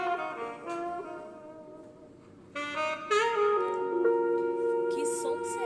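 A saxophone plays a short melodic line of sustained, clear notes in a school music workshop, rising in loudness partway through and continuing alone without speech.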